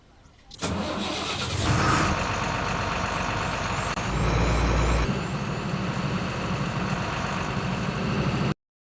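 A bus engine in the Bus Simulator Kerala video game cranks and starts, then runs with a loud, steady rumble and a brief rise in revs, stopping abruptly near the end.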